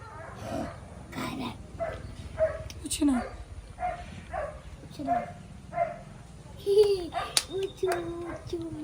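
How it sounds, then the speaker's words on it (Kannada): A dog barks and whines in short bursts over and over, close by, mixed with people talking. "ಈ ನಾಯಿದು ಸೌಂಡ್ ನನಗೆ ಕೇಳೋಕ್ಕಾಗಲ್ಲ"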